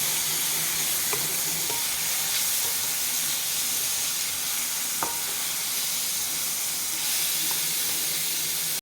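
Cleaned prawns frying in butter with garlic and sautéed onions give a continuous loud sizzle and hiss. A few faint clicks from stirring come through, and no voice is heard.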